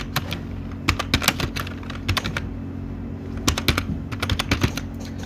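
Bursts of keystrokes on a computer keyboard while typing text into MS Word, clustered in quick irregular runs with short pauses between them, close and fairly loud over a faint steady hum.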